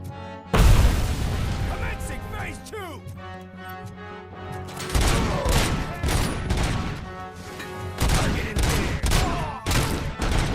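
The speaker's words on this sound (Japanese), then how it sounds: "うわ、手榴弾飛んできた。" Repeated grenade blasts and bursts of gunfire crash out in the PS5 game RoboCop: Rogue City, with a heavy boom near the start and loud, dense volleys later, while someone talks throughout.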